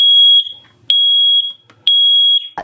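A photoelectric smoke alarm, being installed in a home, gives three loud, piercing electronic beeps. Each lasts about half a second and is separated by short silent gaps, with no voices.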